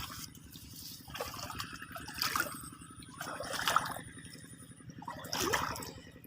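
Irrigation water overflows along a sloping bitter gourd field, with splashy trickling bursts coming and going over a constant low mechanical hum.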